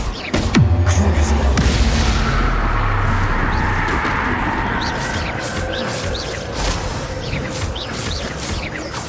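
A Confringo spell explosion in Hogwarts Legacy lands as a loud booming blast followed by a rumbling, crackling tail and scattered fiery whooshes, with a brief voice calling out near the start.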